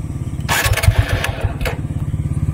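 A TVS Apache RTR 160 4V Special Edition motorcycle starts up: a short starter whir catches into a loud, close single-cylinder engine that settles into a steady, pulsing idle.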